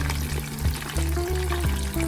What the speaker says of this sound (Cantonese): 呢一面亦都係俾佢炸3-4分鐘